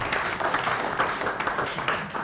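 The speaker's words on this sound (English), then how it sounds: "Let's have a big round of applause for Ushati." Audience applause for a contestant at a demonstration-based science quiz show, a dense steady patter of clapping filling the whole moment at moderate loudness.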